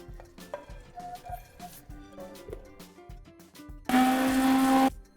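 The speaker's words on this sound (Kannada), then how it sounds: "ಮತ್ತೀಗ ಇವತ್ತನ್ನ ಮಿಕ್ಸರ್ ಮಾಡ್ಕೊಳ್ಳೋನು ಬರ್ರಿ" A mixer grinder whirs in one loud, roughly one-second burst while grinding roasted puffed grain into flour, preceded by quieter kitchen clatter.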